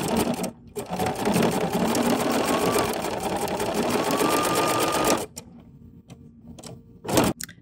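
A sewing machine chain piecing patchwork with a patchwork presser foot stitches in a fast, steady whir for about five seconds. It then falls quiet, broken by a few short mechanical clicks.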